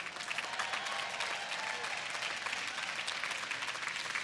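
Dense, steady applause from a large audience honoring the chorus members at the Sweet Adelines International Chorus Competition awards ceremony in Louisville, filling the hall evenly from start to finish without pause.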